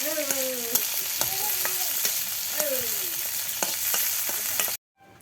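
Chopped onion, garlic and green chili with garam masala sizzle steadily in hot oil, with a constant bright hiss, sharp spatula scrapes and clinks against the pan, and a few pops before it cuts off abruptly.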